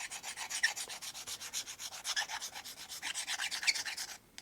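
Sandpaper or a file rubbing back and forth across a small plastic model part for terrain building, a close, steady run of rhythmic rasping strokes about five per second with no voices.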